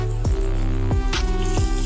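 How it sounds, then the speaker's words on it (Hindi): Water drips and squishes into a pan of chicken korma in a few separate wet plops over a constant low kitchen hum. "अब हमने इसमें थोड़ा सा पानी ऐड करना है"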